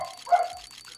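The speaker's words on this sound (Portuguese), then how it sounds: "desculpa o latido dos cachorros" A single short dog bark, fairly close, against a quiet background.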